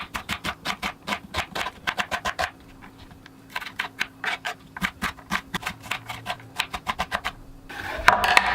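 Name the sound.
peeling and dicing an onion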